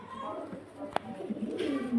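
Pigeons coo softly at night, low murmuring calls rising near the end, with a sharp brief knock midway and a faint voice in the background.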